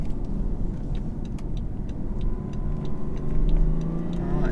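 Cabin sound of a 2018 BMW X6 30d diesel with ZF eight-speed automatic, gears shifted by paddles: a steady low engine rumble and road noise throughout, rising slightly toward the end as the engine pulls.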